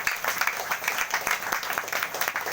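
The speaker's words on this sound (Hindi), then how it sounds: "जोरदार ताली से प्रभु धन्यवाद।" A church congregation at a prayer meeting claps loudly in a dense, continuous burst of applause, with faint voices underneath.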